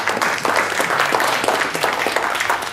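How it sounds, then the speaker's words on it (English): A room full of people at an EO Tampa entrepreneurs' meeting breaks into sustained, dense applause welcoming brand new members, the clapping loud and continuous throughout with a faint crowd murmur beneath. "Brand new members, let's give them a round of applause."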